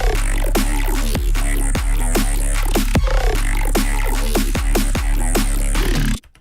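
A gritty, heavily distorted Serum synth bass growls in rhythmic bursts with punchy beats underneath, loud and aggressive, ending with a sudden cutoff.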